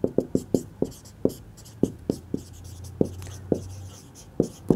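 Pen writing equations on paper for a trigonometry problem, with sharp, close scratchy strokes tapping out in an uneven rhythm alone, no talking.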